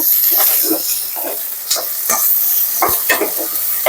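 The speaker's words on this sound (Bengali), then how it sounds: "পেঁয়াজ একটু লাল লাল হয়ে এসছে" Onions frying in a pan until reddish, a steady close sizzle with intermittent stirring clicks and scrapes throughout.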